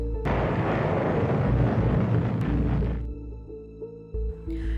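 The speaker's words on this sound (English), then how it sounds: "Suddenly, the first atomic bomb, named Little Boy, was dropped." Massive atomic bomb detonation, Little Boy over Hiroshima in 1945: a sudden loud boom swells into a dense, roaring rumble for nearly three seconds, then fades into a low, lingering tail.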